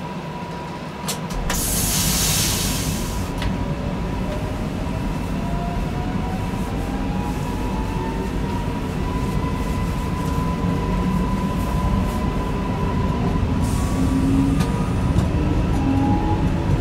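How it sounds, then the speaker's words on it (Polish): An EN63A electric multiple unit pulls away from Kraków Główny, with a rising electric motor whine over steady rumble and rail noise, plus brief bursts of hiss near the start and later. "Pociąg numer 311, gotów do odjazdu."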